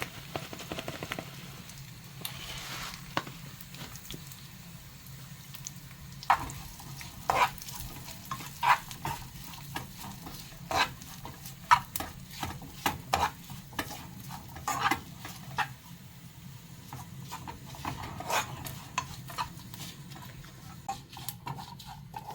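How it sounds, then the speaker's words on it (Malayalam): Desiccated coconut roasts in a pan for a pumpkin erissery curry, with a low continuous sizzle under frequent scraping, clicking stirring strokes that come in irregular bursts. "ഒരു 1/4 കപ്പ് അളവിൽ തേങ്ങയും കൂടെ വറുത്ത് അതിൻ്റെ അകത്തോട്ടിടണം."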